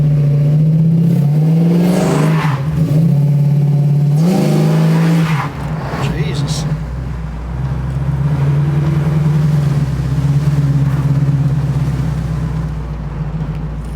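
A convertible car's engine revs loudly, rising and dropping in pitch several times, then settles into a steady drone while driving.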